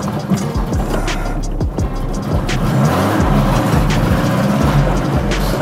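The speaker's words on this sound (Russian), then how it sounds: "Вроде раз разгазуешь, вроде рвануло, и тут же скидывает сама обороты" Car engine running on stale gasoline that has sat for a year, revving up then sagging back as the revs drop on their own, loud and close, idling rough between surges.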